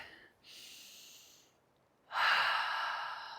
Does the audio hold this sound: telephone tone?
no